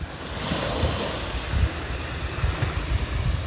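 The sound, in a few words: gentle sea waves on a beach at Na Jomtien, Sattahip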